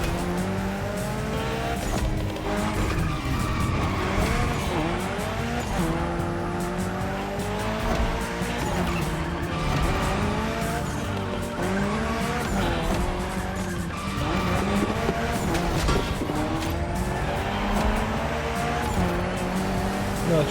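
Tires squeal repeatedly as a car skids and drifts through a gymkhana course in the racing game The Crew Motorfest, engine revs rising and falling beneath long, wavering screeches that continue throughout.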